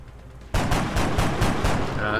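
Rapid gunfire in XCOM Long War, a sudden burst of about six evenly spaced loud shots after a brief quiet moment, close and punchy with a faint tone at the end.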